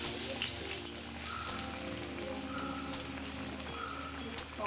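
Pea vadas (batani garelu) fry in smoking-hot oil, a steady close crackling sizzle with a bright hiss that runs evenly from start to finish.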